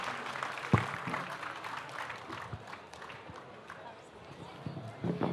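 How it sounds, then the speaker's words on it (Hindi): An audience at a women poets' mushaira claps to welcome a poet to the stage. The applause is steady and dense, with a few sharper claps and faint crowd murmur underneath. "ज़ोरदार तालियों से इस्तकबाल करना चाहता हूँ डॉक्टर नुसरत मेहदी"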